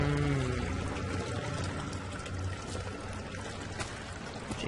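Flowing water in the game Amnesia runs as a steady, soft pouring trickle with no break, heard alone and fairly quiet throughout.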